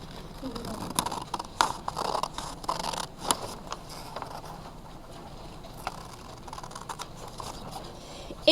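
Scissors cutting a paper circle up close, with repeated short snips and rustles in an uneven rhythm that fade to sparse crinkles, while a person talks faintly.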